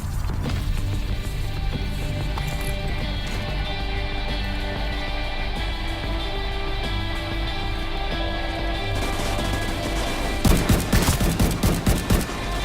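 A single-fire gun in Division 2 lets off a quick run of sharp, punchy shots near the end, following a long stretch of steady game music and ambience.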